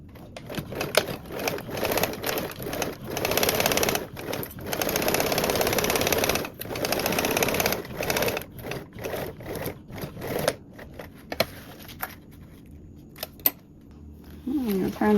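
A sewing machine stitches a 3/8-inch seam along a duffle bag's top edge, with fast rattling runs broken by short pauses and clicks, close up and moderately loud.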